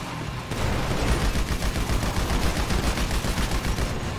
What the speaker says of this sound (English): Purple guy just shooting with the pistol like a maniac.